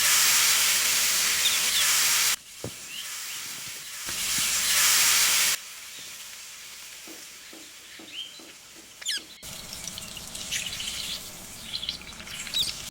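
Chicken vadas fry in hot oil with a strong, bright sizzling hiss that surges loudly in two bursts, then settles into a quieter crackle with scattered pops.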